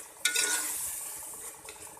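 Chopped tomatoes frying in a pan as a spoon stirs them: a bright sizzle swells when the spoon scrapes through, then settles into a steady hiss with a second, softer stirring burst, close up and with no talking.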